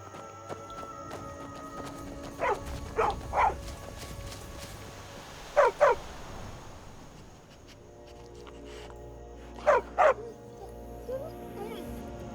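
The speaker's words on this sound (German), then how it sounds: "Streunender Hund." A stray dog in the video game Skyrim barks in three separate short double bursts, sharp and fairly close against a quiet ambient game backdrop with faint hoofbeats.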